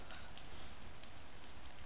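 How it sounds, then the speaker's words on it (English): Soft, continuous rain patters in the video game Magical Diary, a faint broadband hiss that stays even throughout with no talking. "Hey, it's raining."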